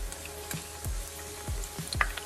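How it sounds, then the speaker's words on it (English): Hot oil pops and crackles as pork chops fry crisp on a stovetop, with several sharp, close spits scattered irregularly over a steady low sizzle. "that was a big oil pop that came out as soon as I started filming"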